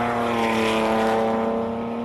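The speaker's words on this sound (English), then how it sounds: "That straight 6 Nissan engine." A loud, sustained roar of a Nissan R32 race car's six-cylinder engine at a hillclimb, with a steady droning tone, heard briefly and up close.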